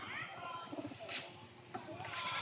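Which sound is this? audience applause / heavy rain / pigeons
pigeons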